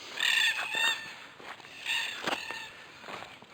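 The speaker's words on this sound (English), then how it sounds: "Going by the amount of cockies that are going off" Harsh, loud cockatoo screeches in bursts, several cockatoos calling repeatedly with short gaps, fairly close.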